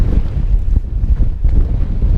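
Strong gusty wind buffeting the microphone on a bike training ride doing hill repeats, a loud continuous low rumble with no voices.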